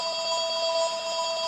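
A mobile phone rings indoors with a steady, pulsing electronic tone repeating in quick regular beats, fairly faint and continuous with no voices over it.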